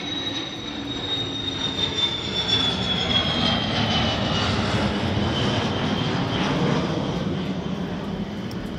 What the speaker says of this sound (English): Let's let this jet fly over.